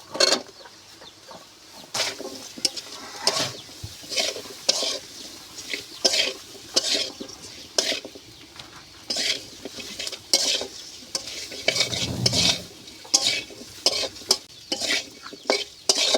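Potatoes being stir-fried in a spice masala in a pan, with repeated scraping and stirring strokes and a soft sizzle underneath, no talking.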